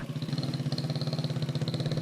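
A motorcycle engine idles close by with a steady, throbbing rumble and regular pulsing beats, running continuously with no voices.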